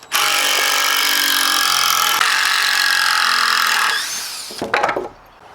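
A saw cuts steadily through a log being shaped for log stairs, a loud continuous rasping that tails off as the cut finishes, followed by a few brief clatters.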